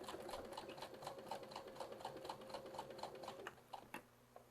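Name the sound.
sewing machine back stitching a baby Yoda outfit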